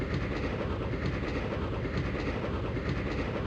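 A train running on rails in the Grandia video game, a continuous loud rumble with a steady clickety-clack rhythm and no pauses.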